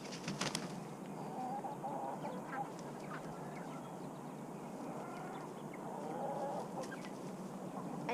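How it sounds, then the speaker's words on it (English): Polish chickens and ducks on a homestead: a steady chorus of clucking and quacking fowl close by, with a few sharper calls standing out near the start and near the end. "I have two Polish chickens, Hey Hey and Bree."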